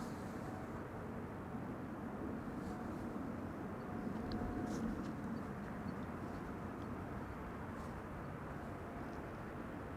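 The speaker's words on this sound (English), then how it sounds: "Kuwait Airways flight 127 arriving from Kuwait City." A Kuwait Airways Boeing 777-300 airliner arriving on runway 06 at Amsterdam Schiphol gives a steady, distant broadband roar of jet engines that holds at a fairly even, low level throughout.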